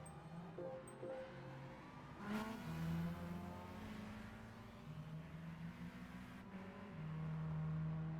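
Cars drifting in Gran Turismo 5 on a mountain touge course, with engines revving up and down through shifts, brief tire squeals and a continuous mid-loud motor whine.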